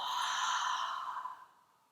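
A breath released slowly through the open mouth during a yoga session, a single close, breathy airy exhale that fades out over about a second and a half.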